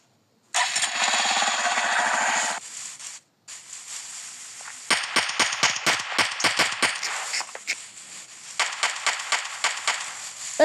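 A vehicle engine cranks and catches, then revs in uneven bursts at close range. Shortly after, a motorbike-type engine starts and runs with a choppy, pulsing idle. No one speaks.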